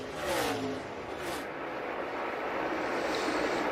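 NASCAR Xfinity race cars roar around the track at the 2022 Andy's Frozen Custard 300, a dense, sustained engine whine and rushing wind that stays loud and steady throughout, with no voices.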